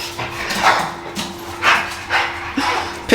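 A dog barks several times at uneven intervals, close and fairly loud, with a whine in between and a steady low hum running underneath.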